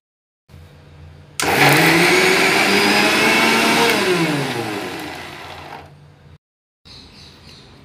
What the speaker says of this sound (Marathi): हे मी शेंगदाणे, गूळ आणि वेलची मिक्सरमधून वाटून घेणार आहे